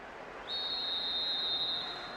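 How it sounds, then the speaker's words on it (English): A referee's whistle in a football video game signals the end of the first half: one long, steady, shrill blast held for over a second over faint background noise. "The referee blows his whistle."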